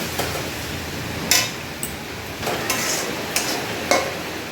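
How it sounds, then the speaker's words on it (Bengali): Something sizzles steadily in a pan for mutton kosha with pulao, with sharp spatula scrapes and clinks breaking in every second or so as it is stirred and fried, close and fairly loud. "এটাকে ভালো করে আমি ভেজে নেব"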